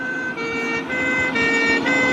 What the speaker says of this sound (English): Here's a fire truck sound.